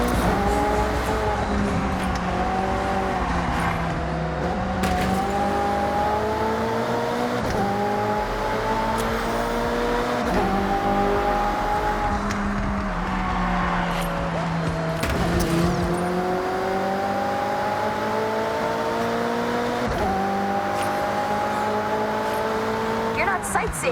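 Race cars in Forza Horizon 6 roar steadily through a race, engines rising and falling through gear shifts with a continuous loud drone and occasional passing whooshes.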